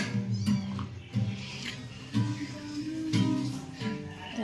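A small kitten meows repeatedly in short, evenly spaced cries, close by, against a steady low background hum.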